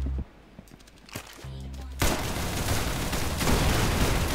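A gunfight in the Roblox game Arsenal, starting with a few scattered shots and a short burst, then breaking into a loud, sustained, continuous stream of gunfire.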